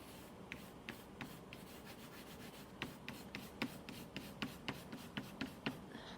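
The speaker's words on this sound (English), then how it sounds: "I'm not really coloring in so much as I'm just adding some diagonal lines." Coloured pencil draws diagonal strokes across paper, a soft, close, rhythmic rubbing with regular short scratches, faint and steady.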